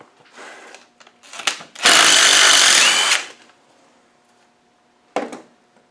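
Power tool with a socket spinning off the fork nut on an R380 gearbox, one loud burst of about a second and a half, near, framed by short clanks and rattles of metal handling.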